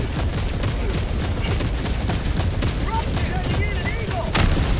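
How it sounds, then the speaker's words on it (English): Orbital barrage explosions in the Helldivers 2 video game, a dense rumbling stream of booms and blasts with rapid crackling fire, loud and continuous, with a voice talking over it. "Orbital barrage inbound."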